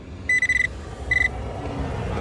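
A Nokta Accu Point pinpointer beeps on a coin, sounding a rapid burst of high electronic beeps followed by a second shorter steady tone, heard close over faint background noise.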